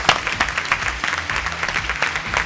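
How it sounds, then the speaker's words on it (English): High school students applaud at a televised quiz event, dense clapping with scattered cheers, close and lively throughout the short stretch. "can you scream out your names loud and give it good applause to your school?"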